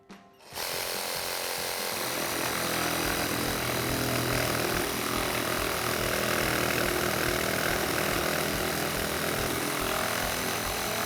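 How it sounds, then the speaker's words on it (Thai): A cordless reciprocating saw cuts wood or PVC pipe, a loud continuous buzzing whine that starts abruptly and runs steadily throughout, close up with no talk. "นี่เลยเลื่อยชักไร้สายนะคะ ตัดง่ายรวดเร็วแบบนี้เลย"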